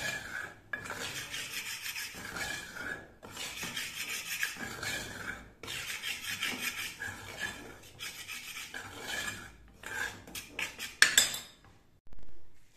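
Ground chickpeas and almonds roasting on low heat are stirred in a pan, with continuous close scraping and rubbing of a spoon against the metal in repeated strokes and brief pauses.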